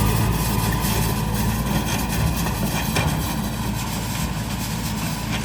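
A tractor and planting machinery drone steadily as soybeans go into a green cover crop, a loud, continuous low engine rumble with no talk over it.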